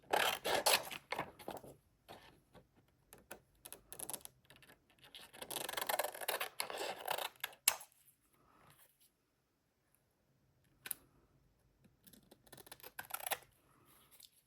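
Scissors cut out a paper card in short bursts of crisp snipping and rustling, with quiet pauses between the cuts and a few faint clicks, close by and without talk.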